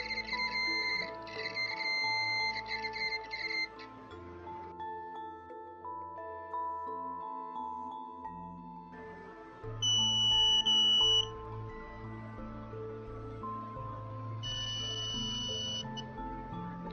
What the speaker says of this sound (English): Next, let's put these multimeters to a continuity test.